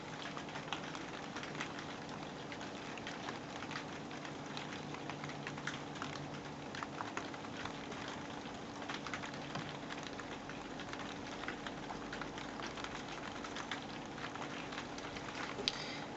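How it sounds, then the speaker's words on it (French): Light rain pattering outdoors, a faint, steady crackle of soft drops with scattered tiny ticks over a low hum, continuous and quiet with no talking. "Désolée si vous entendez des petits crépitements, c'est la pluie."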